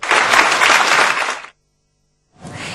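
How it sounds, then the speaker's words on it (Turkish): Women applauding at a graduation ceremony for a leadership certificate program, a dense burst of clapping that stops abruptly, then a brief silence before a second round of applause starts. "Mezuniyet töreni kadınların kendilerini alkışlamalarıyla son buldu"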